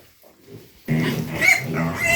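After a near-silent second, loud piglet squeals and grunts erupt close by during weaning and weighing, a dense chaotic chorus of shrill cries continuing without pause.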